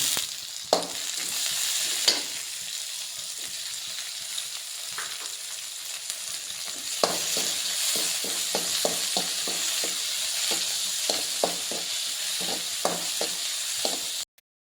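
Tomatoes sizzle in a hot pan for rasam, a continuous frying hiss broken by repeated scraping stirs, the strokes coming in quick clusters.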